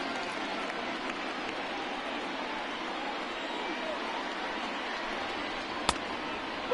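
Rain falls over a ballpark crowd in MLB The Show 20, a steady, broad hiss of rainfall blended with distant stadium murmur, broken once by a single sharp crack near the end.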